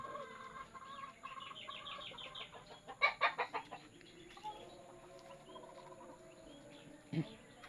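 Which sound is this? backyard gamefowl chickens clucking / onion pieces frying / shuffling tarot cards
backyard gamefowl chickens clucking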